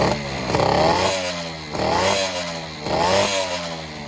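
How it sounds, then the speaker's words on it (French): A Peugeot 103 SPX moped, liquid-cooled, with a Giannelli exhaust and open intake, idles with a buzzy two-stroke rasp and is blipped three times in a steady rhythm, the note climbing and falling with each rev, close and fairly loud. "Et donc voilà le bruit de la mob une fois démarré avec le pot Gianelli."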